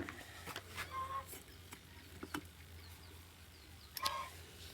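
Bright yellow chicks cheep in short, high-pitched bursts, faint and scattered against a low background hum.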